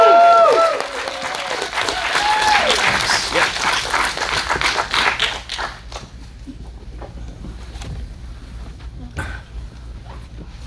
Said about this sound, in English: And please join me in giving a huge round of applause to director John Hyams.